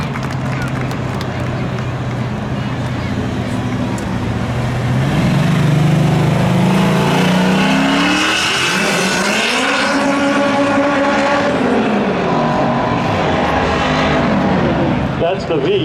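Honda Civic hatchback with VTEC engine racing in spectator drags at Seekonk Speedway, a loud engine revving and rising through gear changes as it passes, with an announcer talking over it.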